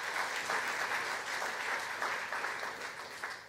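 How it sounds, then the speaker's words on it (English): A church congregation applauds steadily for a few seconds, a dense patter of many hands clapping without talk. "that's a good place to clap"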